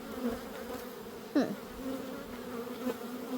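Honey bees hum steadily around an open hive during a summer hive check, with one louder bee sweeping close past partway through.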